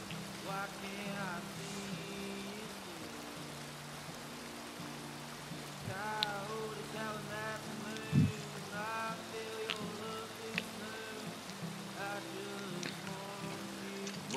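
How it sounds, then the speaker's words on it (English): Rain falls steadily in a video game, a constant hiss of drops with scattered knocks and brief tonal game sounds over it. "I ain't standing out in the damn rain."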